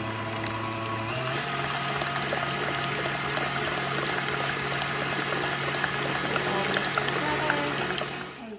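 Stand mixer beating wet ingredients for butterscotch pumpkin bread: the motor hum steps up to speed early on and then runs as a steady, close churning whir until it slows at the end.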